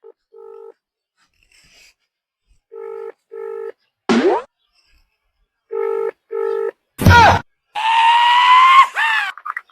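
A phone number being dialed with a series of short, evenly spaced keypad tones, interrupted by brief squeals and whooshes, then the line ringing with a sustained warbling tone near the end.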